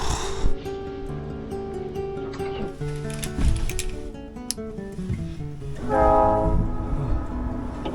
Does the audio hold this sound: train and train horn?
yes